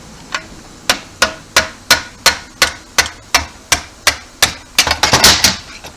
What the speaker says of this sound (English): drive the starter ratchet pin in a little bit